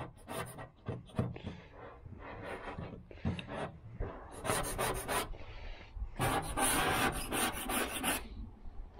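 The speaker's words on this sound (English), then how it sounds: "we're gonna scrape off the loose stuff and then just sand it down with the DA with 80 grit" Dual-action sander with 80-grit paper stripping paint on the body of a 1978 V8 Chevrolet Nova hot rod, heard as bursts of close, loud rasping and rubbing, pausing between passes and building to a longer steady run.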